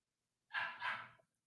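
A pet dog gives a single short double bark, close and fairly quiet, with silence before and after.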